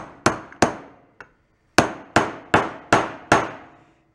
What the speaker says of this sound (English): I could hammer on that.